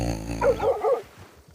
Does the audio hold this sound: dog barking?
yes